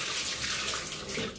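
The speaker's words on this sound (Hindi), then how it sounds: "अच्छे से हाथ धोने के बाद बहते हुए पानी से" Hands rinsed under running tap water after washing, a short, close burst of steady splashing flow with no speech.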